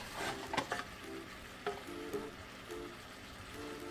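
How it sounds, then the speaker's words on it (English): Goat meat stirred in a pot for kalderetta, with gentle scraping and sizzling in steady stirring strokes, a few sharper clinks of the utensil against the pot, close and moderately loud, no talking. "Once the meat is in the pot, you just mix it"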